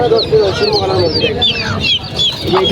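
Many chickens clucking and squawking together at Kaptan Bazar's fancy chicken market, a dense, continuous near chorus of calls with voices talking underneath.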